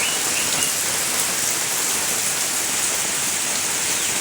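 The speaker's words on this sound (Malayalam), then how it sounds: "നല്ല മഴയാ" Heavy rain pours down in a dense, unbroken roar, loud and even throughout with no pauses or voices.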